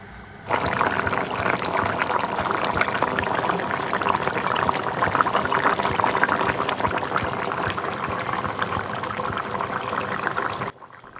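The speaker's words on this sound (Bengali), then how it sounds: "দেখুন দেখতে দেখতে মাছের ঝোল হয়েও গেছে ফুটে উঠেছে" A pot of fish curry with pointed gourd boils on the stove, giving a steady, dense bubbling and hiss that runs without a break for about ten seconds.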